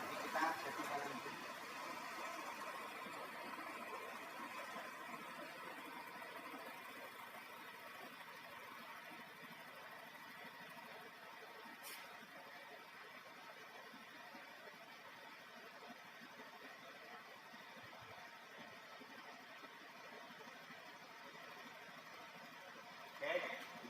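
A Honda 110cc automatic scooter idles after an injection adjustment, a quiet steady mechanical hum with faint rattling throughout, and a couple of brief knocks at the start and end.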